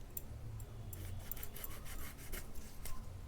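A home-grown lemon sliced with a knife, giving soft scraping, rasping cuts in a quiet kitchen, faint and close with no talk.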